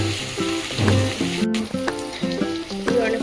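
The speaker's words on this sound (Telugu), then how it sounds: "ఫ్రెండ్స్, బ్రౌన్ కలర్ వచ్చేదాకా వేయించుకోవాలి." Puffed rice (murmura) frying in a pan gives a steady, close sizzle and crackle, with a melodic tone playing over it throughout.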